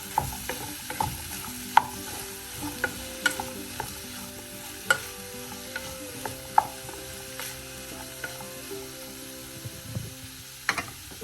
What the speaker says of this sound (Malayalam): ഈ സമയം ഇതിലേക്ക് 2 സവാള ചെറുതായി അരിഞ്ഞ് ചേർക്കാം. എല്ലാം കൂടെ നന്നായി മിക്സ് ചെയ്യാം.